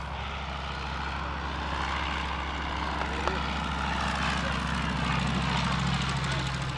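Engine of a vintage Morane propeller aircraft, the last airworthy example, running steadily through a takeoff attempt on a runway, a continuous droning hum at moderate distance with no pauses.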